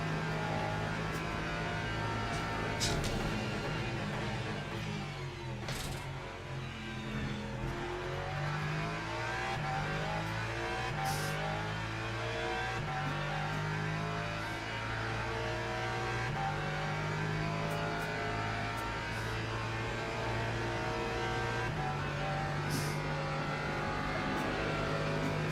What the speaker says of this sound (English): Two hypercars.